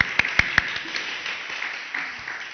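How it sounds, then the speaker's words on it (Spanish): Audience applause, a short burst of many hands clapping with a few sharp close claps at the start, fading into a soft patter. "Yo les pido un aplauso para estas reflexiones antes,"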